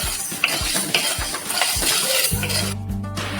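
Raw mung beans dry-roasting in a pan over a medium gas flame, rattling and clinking against the metal with a short stirring scrape near the end.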